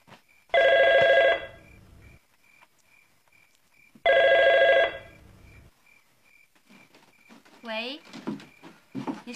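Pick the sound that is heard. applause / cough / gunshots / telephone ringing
telephone ringing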